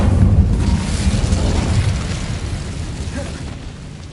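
An Incendio fire spell cast in Hogwarts Legacy: a loud, close burst of roaring flame with a deep, rumbling whoosh that swells at the start and slowly fades over several seconds.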